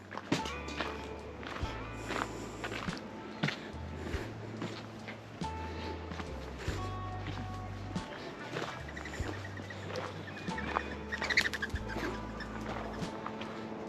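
Chickens clucking and scratching outdoors at Indian Key State Park in the Florida Keys, irregular short calls and footstep-like shuffles close by, with light background ambience.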